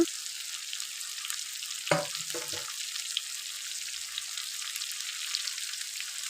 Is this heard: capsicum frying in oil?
yes